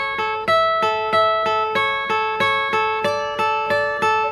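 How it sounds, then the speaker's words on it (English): A light acoustic guitar part from a pop song's intro plays a steady run of evenly spaced plucked notes, about two per second, bright and close with no talking. "there's another little acoustic guitar part that comes in at the top,"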